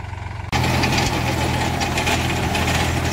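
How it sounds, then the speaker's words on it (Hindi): A Mahindra 405 Yuvo Tech Plus three-cylinder 40 hp tractor pulls a six-foot rotavator, its diesel engine suddenly loud after a quieter opening, then a steady close, heavy drone with a rough knocking throb. "भाई ये है महिंद्रा 405 यूवो टच प्लस तीन सिलेंडर पावर स्टेयरिंग में छः फुटर रोटावेटर ले रहा है"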